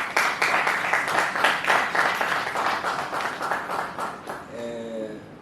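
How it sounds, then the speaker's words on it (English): An audience at an academic conference claps steadily for a dean newly welcomed as chairman, a dense run of many hands that carries on for several seconds, then a brief tonal note as it dies away. "Let's clap, let's recognize that."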